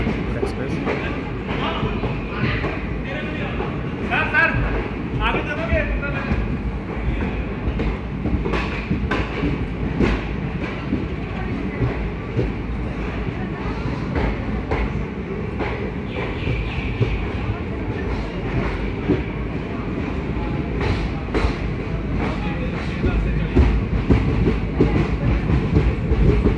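The Ahmedabad Express pulls out of Pathankot Cantt railway station in India, rumbling steadily with rhythmic wheel clatter and rattling carriages heard from on board, with voices talking underneath.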